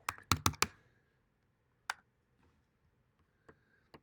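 Keys on a computer keyboard clack in a quick burst of four loud, close strokes, then a few sparse, softer taps spaced out over a quiet room, with no talk.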